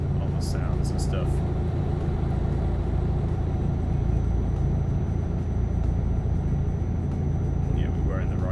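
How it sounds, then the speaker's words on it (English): An RJL Scania R460 truck engine in Euro Truck Simulator 2 gives a steady, deep diesel rumble throughout, with people talking over it. "I love the sound of these RJL Scanias"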